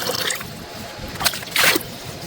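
Water holding live moina poured into a fish-culture tank, a short soft trickle and splash, with a brighter gush near the end.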